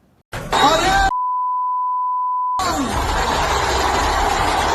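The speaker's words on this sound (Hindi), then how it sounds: "पूरी नहीं सुनवा पाएंगे, बीप लगाएंगे" A long steady censor bleep tone cuts across a heated speech recording, blanking out an insult from a political leader, with loud talk and crowd noise on either side.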